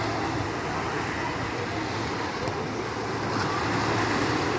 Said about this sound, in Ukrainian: хвилі класні такі, водичка чиста